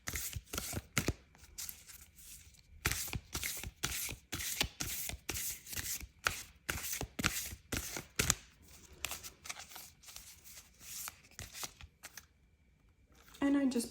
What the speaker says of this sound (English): I shuffle the Oracle deck first.